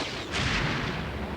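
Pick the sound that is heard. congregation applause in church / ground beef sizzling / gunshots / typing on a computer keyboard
gunshots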